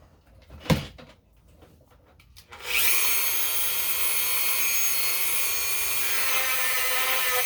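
A few brief knocks and scrapes, then a power sander starts up and runs steadily with a loud, bright, continuous whir close by, sanding the inside of a ring made from a 1963 Franklin half dollar coin.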